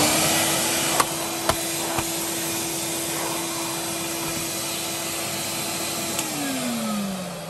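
A Numatic Henry vacuum cleaner runs steadily with loud, hissy suction noise and a constant motor whine, with a few light clicks, and the motor pitch drops as it begins winding down near the end.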